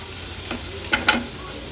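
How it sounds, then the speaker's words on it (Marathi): A paste of green chilli, coriander and ginger-garlic sizzles in hot oil, with a few soft stirring scrapes against the pan over a low, steady frying hiss. "वाटण तेलावर थोडंसं परतून घ्यायचंय।"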